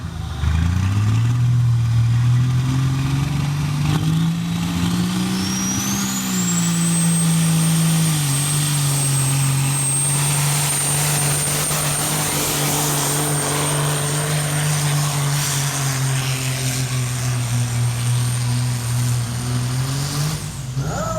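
A Kenworth pro stock semi truck engine roars steadily at high revs while pulling the sled at a county tractor pull, with a sustained droning tone and a rising turbo whistle that holds high throughout.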